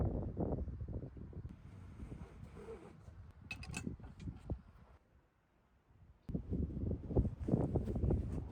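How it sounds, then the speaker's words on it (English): Strong wind on a very windy day buffets the microphone in loud low rumbling gusts, easing to a lull midway before roaring back. "As you can hear, it was a very windy day"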